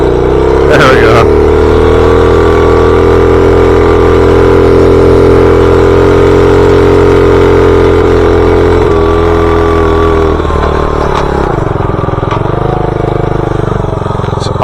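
Car with an automatic gearbox stuck in the wrong gear, its engine straining in a loud, steady high drone that eases and drops in pitch toward the end, with a voice talking over it at times.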